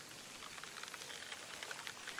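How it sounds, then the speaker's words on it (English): Steady rain falls in the fishing game Fishing Sim World, a soft, even patter of drops on a surface that stays faint and continuous throughout, with no voices over it. "now it is raining"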